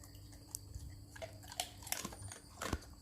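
Food is chewed and crunched close by with irregular, fairly quiet crunchy bites and mouth sounds. No one speaks.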